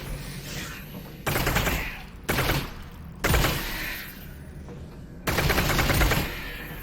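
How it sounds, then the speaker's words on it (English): Gunfire from the hip in Half-Life: Alyx, in several separate rapid automatic bursts, each loud and close, with short quieter gaps between them. "You can fire from the hip,"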